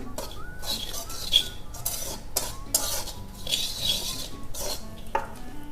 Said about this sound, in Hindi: ये सारी चीज़ों को हम अच्छी तरह मिक्स कर लेंगे।